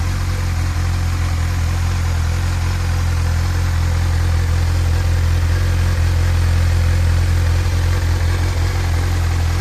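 A 2007 Honda CBF 1000 ABS motorcycle engine idles steadily and loudly nearby, a continuous low rumbling throb with no voices.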